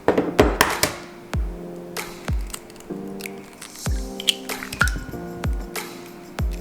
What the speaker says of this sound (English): I'm going to crack 2 eggs.